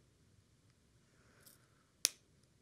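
Crisscrossed jewelry wire for earrings is cut with a single crisp, close snip, isolated against quiet room background.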